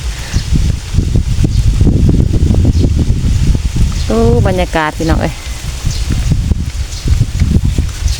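Wind blows steadily through leaves outdoors on a cool day, a constant rustling hiss that fills the whole stretch, with someone talking over it throughout.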